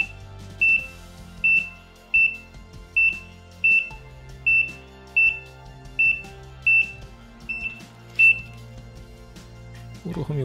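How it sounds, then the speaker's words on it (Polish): Short electronic beeps from a Cestsen GM300A radiation detector's dose rate alarm repeat at a steady pace, about ten in a row, over a low background hum; a voice talks faintly underneath. "Uruchomił się alarm mocy dawki."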